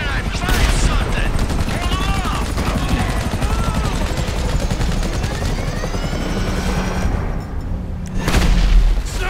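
Gunfire in GTA 5 during a train derailment mission, rapid bursts crackling over a loud helicopter drone, with a heavier boom near the end. The whole scene is close and dense.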